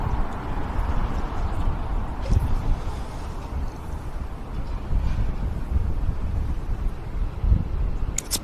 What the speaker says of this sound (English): Bit of a wind tunnel down here